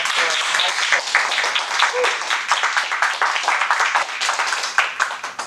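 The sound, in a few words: audience applause for a Toastmasters speaker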